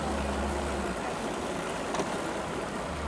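A bass fishing boat idles out on Lake Okeechobee, a low steady engine rumble under rushing wind and water noise, moderately faint and continuous.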